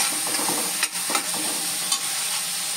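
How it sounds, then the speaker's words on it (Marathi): Tomato, onion and finely chopped green chili sauté in a pan for a Marathi shev tamatar curry, giving a steady sizzling hiss with a few soft scraping stirs, close by and with no talking. "असा परतून घेतोय"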